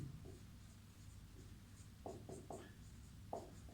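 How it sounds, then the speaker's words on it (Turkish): A name being written on a classroom board, heard as a few short scratchy strokes in quick bursts, fairly faint and close, with no speech during the writing. "Hemen yazıyorum buraya ismini."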